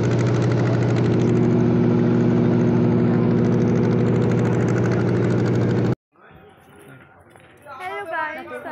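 A boat engine drones loud and steady while crossing the river to Mayapur, then cuts out abruptly, followed by people talking close by.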